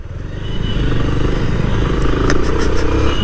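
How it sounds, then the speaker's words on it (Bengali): Steady, loud motorcycle engine drone while riding along a bypass road, with continuous low rumble and rattling clatter, a few brief higher clicks near the end, no talking. "বাইক চালাই"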